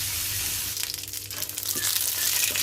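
Dried red chilies crackle and sizzle in hot oil in a pan for a chili bharta, a close, bright frying hiss that swells and flickers unevenly with soft stirring scrapes beneath.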